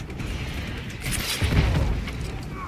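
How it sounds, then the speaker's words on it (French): A train blown up in the video game Just Cause 3 gives a deep booming explosion that swells and rumbles for a couple of seconds, heavy and close with debris crackle. "quoi de mieux pour débuter la journée que de faire péter un train"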